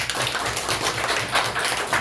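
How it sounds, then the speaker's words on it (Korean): An audience at a lecture and discussion event applauds the speakers, with brisk, dense clapping throughout that sounds close and fairly loud. "다시 한번 큰 박수 부탁드립니다"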